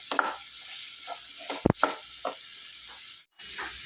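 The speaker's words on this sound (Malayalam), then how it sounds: "ഇത് സവോളയും ക്യാരറ്റും പച്ചമുളകും ഇഞ്ചിയൊക്കെ ഒന്ന് നന്നായിട്ട് നന്നായിട്ടൊന്ന് സോഫ്റ്റായി വരുന്നവരെ നമുക്ക് ഇളക്കിക്കൊണ്ടിരിക്കാം" Onion, carrot, green chili and ginger fry in a pan for vermicelli upma, a constant close sizzle with spoon scrapes and stirring clacks breaking through at irregular moments, briefly cutting out near the end.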